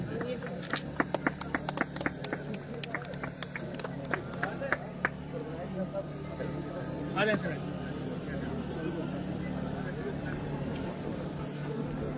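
Scattered hand claps from a crowd at an Indian Army winter festival in Surankote, a quick run of sharp claps over the first few seconds that thins out beneath a steady background hum and distant talk.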